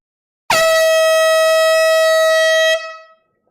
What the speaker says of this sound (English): I love the sound of air horns in the morning.